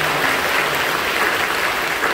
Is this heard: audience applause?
yes